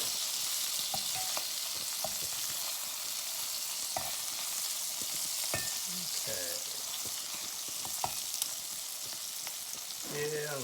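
Burgers and sausages sizzle and fry on a portable 9-inch Blackout stove outdoors, giving a constant crackling hiss with scattered pops and light scrapes of utensils.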